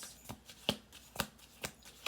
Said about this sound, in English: I'm going to do two more shuffle throughs after this.